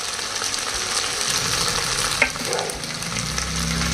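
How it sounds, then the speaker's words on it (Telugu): Ginger garlic paste and green chillies fry in a pan for a Konaseema-style chicken pulao, a steady loud broadband sizzle with a brief sharp clink of a utensil midway. "ఇప్పుడు పచ్చివాసన పోయేంత వరకు వేగించాలండి"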